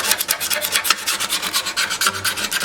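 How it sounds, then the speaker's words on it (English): Rapid back-and-forth rasping strokes of sandpaper on the wooden sides of a 12-string dreadnought guitar, close and evenly rhythmic, with no voices. "it's a little tricky to sand the sides"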